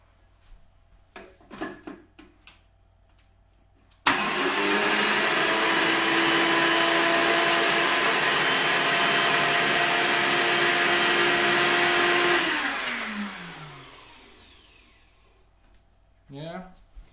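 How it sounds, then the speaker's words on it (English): A bullet blender grinds wild green leaves into powder, starting abruptly with a loud, steady whir that holds for about eight seconds before winding down, with brief handling clatter before and after. "You take some leaves in your bullet blender or whatever, and then there is this option for grinding stuff."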